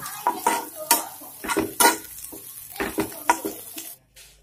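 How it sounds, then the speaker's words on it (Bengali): Chopped onions frying in oil while a spatula stirs them, with rhythmic scraping strokes against the pan about twice a second over a soft sizzle, ending abruptly near the close. "পেঁয়াজটাকে দিয়ে হালকা ব্রাউন করে এটাকে ভাজতে হবে"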